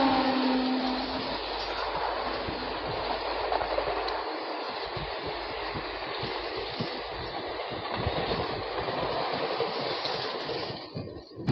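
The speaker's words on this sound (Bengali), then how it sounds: "এবার আমরা জিং দেখতে চলেছি 17480 তিরুপতি পুরী এক্সপ্রেস।" The 17480 Tirupati Puri Express passing on an Indian railway line, a loud, steady roar of wheels and carriages with rapid clickety-clack rhythm that holds for about eleven seconds and then begins to fade.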